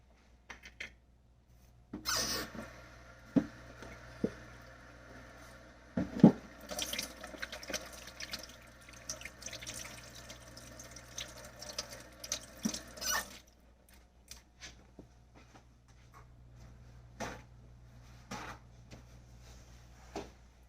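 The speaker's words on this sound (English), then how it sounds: "I did wash my hands again" Hands are washed under a running kitchen tap while baking, with a stretch of flowing water, splashes and drips, followed by scattered clatter and light knocks as the water stops.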